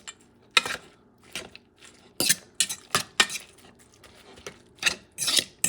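Walnut stuffing is stirred in a bowl in brisk, uneven strokes, with scraping, rubbing and clinking utensil sounds close by, separated by short pauses.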